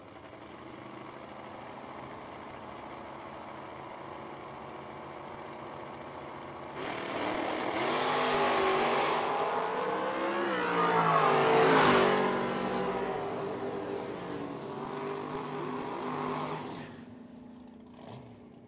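A yellow wagon and a dragster launching in a drag race, engines swelling from a quiet idle into a loud, sustained roar that peaks and then fades as the cars pull away.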